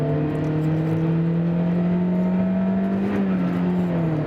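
A lightweight Volkswagen Polo with a 1.6 litre engine and manual gearbox pulls hard in a single gear. Its steady, rising engine drone is heard from inside the cabin with no other sounds.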